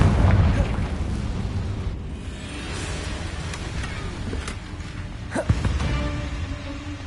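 Hogwarts Legacy's Confringo spell going off: a heavy blast up front settles into a rumbling, crackling tail, with a few smaller pops and bursts following amid continuous combat noise.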